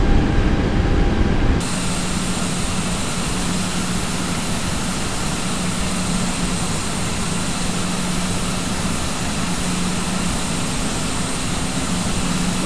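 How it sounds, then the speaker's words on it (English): A steady, loud roar of an Airbus A320's engines as the airliner banks into a turn, an even broadband drone that holds without a break throughout. "Aircraft beginning to turn."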